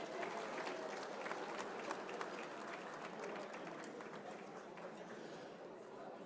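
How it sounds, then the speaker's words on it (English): A gala crowd at the Boston Irish Honors luncheon in the Seaport Hotel applauds the musicians, a faint, distant wash of clapping mixed with murmuring chatter that holds steady throughout. "How about a nice round of applause for Sean and Kara providing the music,"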